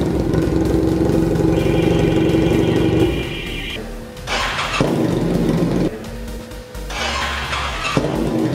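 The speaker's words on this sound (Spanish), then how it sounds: "vamos a probar una cosa que tengo muchas ganas de hacer, que es arrancar la moto sin escape" A BMW F800GS Adventure motorcycle engine with the exhaust removed fires up and revs in loud, harsh bursts, dropping back between throttle blips.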